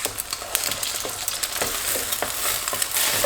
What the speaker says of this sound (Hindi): हम अपनी कढ़ाई में 2 टेबलस्पून ऑयल डाल देंगे और ये अंडा इसमें शामिल कर